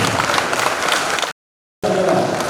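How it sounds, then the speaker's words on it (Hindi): Loud audience applause fills the hall at a Janmashtami cultural program, dense clapping broken by a brief abrupt silence before resuming just as strongly. "तो अपने आपको कांग्रेचुलेट होने के लिए जोरदार तालियां बजा सकते हैं"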